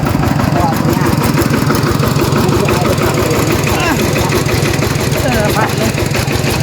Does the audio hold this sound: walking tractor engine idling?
yes